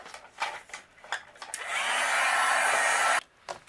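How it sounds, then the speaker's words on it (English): A heat gun blows hot air to melt gold embossing powder on a card, a steady loud whooshing roar lasting about a second and a half after a few light taps and handling noises. "I'm going to use my heat gun and we'll melt this."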